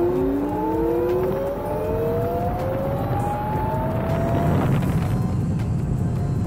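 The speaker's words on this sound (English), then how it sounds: "So that was full throttle acceleration, going about 60 miles an hour now." A DIY electric motorcycle at full throttle gives a rising electric whine that climbs in pitch over a constant roar of wind and road noise.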